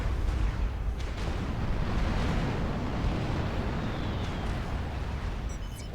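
Artillery and missile strikes in the strategy game Forged Alliance, a dense rumbling wash of distant explosions and booms with a brief whistling projectile sound near the end.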